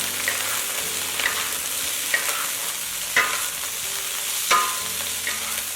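Blanched scored squid stir-fried in a wok with blanched garlic scapes, ginger, garlic and chili in oil: a steady sizzle broken by several sharp spatula scrapes and clanks at irregular intervals, no voices.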